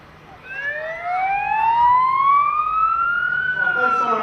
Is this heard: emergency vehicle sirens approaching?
yes